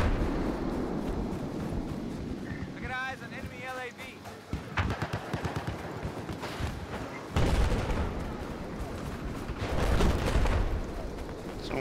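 Explosions and bursts of gunfire from a Battlefield 4 match, loud booms and rapid shots scattered throughout, with players talking over the din of the game's battle.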